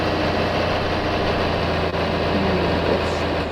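A farm tractor engine idles nearby in a steady, loud, low rumble with even vibration throughout and no talking.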